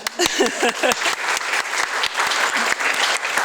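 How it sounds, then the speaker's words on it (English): Applause fills the hall at a distinguished alumni awards ceremony, a sustained crowd of clapping with a few sharp individual claps standing out near the front and a brief voice underneath early on. "one more round of applause, everyone"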